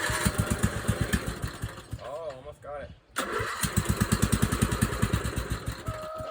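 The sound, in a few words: riding mower engine starting and running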